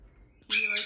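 A sun conure parrot indoors gives a single loud, harsh scream lasting about half a second, close to the microphone, after near silence.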